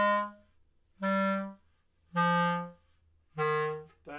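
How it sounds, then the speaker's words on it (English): Four clear reedy clarinet notes with crisp attacks made by the tongue coming off the reed, evenly spaced with short gaps between them, played alone. "That's just the reed being allowed to vibrate by the tongue coming off"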